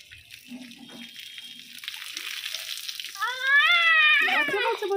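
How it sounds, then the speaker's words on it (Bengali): Water pours steadily over a five-year-old child during a bath at home, a continuous splashing rush that grows louder toward the end, with a voice briefly rising over it. "গায়ে পড়ছে জল"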